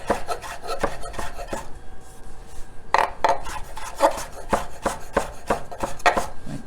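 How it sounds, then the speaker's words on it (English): A knife chopping fresh oregano finely on a cutting board, a series of sharp close taps in an uneven rhythm, with light scraping between strokes. "I'm gonna chop that up finely."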